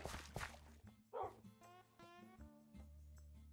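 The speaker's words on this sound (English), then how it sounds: "There was a dog over here, a wolf." A wolf in the video game Minecraft gives a few short barks and yips over background game music, fairly close and distinct, with no talking.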